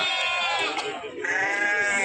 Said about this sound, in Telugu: ఈ గొర్రెలు బాగానే ఉన్నాయి